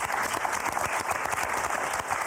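Studio audience applauding on a French TV word game show, steady dense clapping throughout at moderate loudness, with no voices over it.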